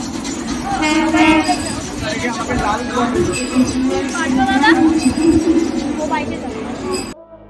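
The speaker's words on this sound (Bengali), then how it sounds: "দমদমে ব্যারাকপুর যাওয়ার ট্রেন চলে আসে" A commuter train bound for Barrackpore pulls into Dum Dum station, its rumble and clatter steady and close, with people chatting loudly over it throughout.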